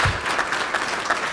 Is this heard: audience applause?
yes